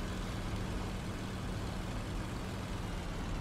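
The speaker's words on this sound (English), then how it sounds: "But I hear the engine is giving in." A struggling, failing WWII aircraft engine in the flight combat game Il-2 Sturmovik, a steady rough low drone filling the whole stretch at constant loudness with no talk.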